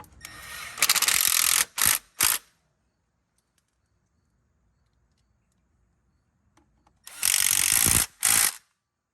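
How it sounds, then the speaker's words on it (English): Ratchet wrench running down bolts on the oil pan of a VW 2.0T engine, two close bursts of rapid clicking separated by a long quiet pause, each burst ending in a few short sharp strokes. "Now I'm just gonna bolt on the pan."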